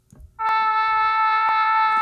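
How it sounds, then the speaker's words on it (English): A single sustained note from a virtual jazz trumpet instrument rings out clearly and steadily after a brief quiet start, dry and close with no other sounds. "this trumpet, but it sounds like this."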